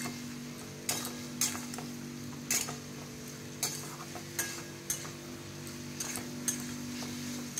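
Ground chili and cumin frying in a pan, a low steady sizzle under the sharp scrape and clack of a spoon stirring every second or so, close by with no talk.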